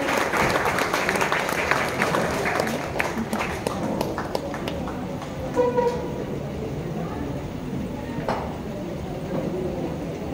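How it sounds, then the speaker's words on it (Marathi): Crowd clapping at a state youth games opening ceremony, a dense, steady patter of many hands that is fairly loud, with a voice briefly heard through it. "किशोर वाघेलकर सर कोल्हापूर वरून, त्यांच्यासाठी जोरात टाळ्या होऊन जाऊ दे."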